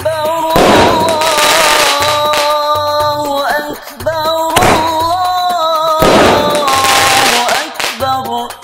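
Fireworks bursting during a Tellasan (Eid eve) night celebration, loud booming explosions at regular intervals with crackling tails, over a constant sustained drone of music and crowd noise.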